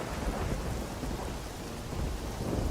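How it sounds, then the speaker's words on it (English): A thunderstorm on the TF2 map Stormy, where heavy rain pours in a dense, steady roar and low thunder rumbles underneath. The sound is loud and constant throughout with no voices. "TF2 Stormy is a map where there's a lightning storm, plus it rains heavily"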